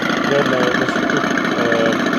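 A children's ride-on toy car plays its electronic engine-start sound, a steady buzzing motor-like hum with faint tonal beeps, moderately loud and continuous through the clip.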